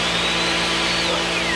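A metal chop saw and a miter saw run together in a workshop during a solar transformer test, giving a loud continuous motor whine with a steady hum underneath, close and without talking.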